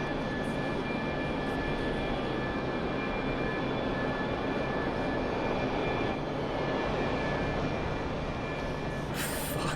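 Aircraft engine in a flight game as a plane comes in to land, a loud, steady broadband roar with a constant whine that holds for the whole stretch, no voices.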